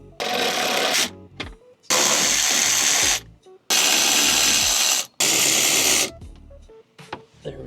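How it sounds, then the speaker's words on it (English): A power tool whirs in several loud, sustained bursts while removing 10mm skid tray bolts on a Honda Civic Si, with short pauses and small clicks and rattles between runs. "So just go ahead and remove these bolts"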